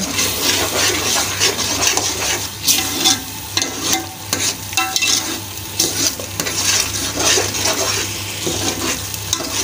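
Masala of onions and tomatoes fries in its own juices in a pan for keema, a continuous close sizzle broken by repeated scraping strokes as a spoon stirs it.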